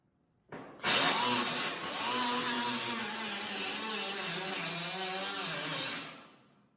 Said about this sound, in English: I'm gonna use the die grinder and just use the edge of the disc, and this is an 1/8 inch disc.